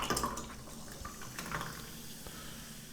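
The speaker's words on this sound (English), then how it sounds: "So I'm just gonna pour the entire drink and hope it tastes good." A SportyFeel pear drink being poured, a close, steady liquid stream splashing and filling for a few seconds, with no one speaking.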